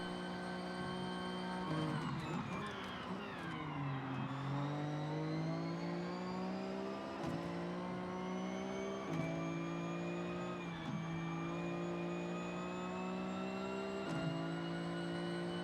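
A car engine in a driving video game drones and revs steadily, its pitch dipping and climbing as gears shift, with a few sharp clicks along the way.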